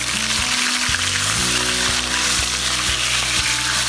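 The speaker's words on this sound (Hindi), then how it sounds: "अब हम इसमें ये कलेजी डाल के और फ्राई करेंगे" Goat liver frying in a pan with browned onions over a medium flame, giving a steady, close sizzle throughout with faint stirring, and no voices.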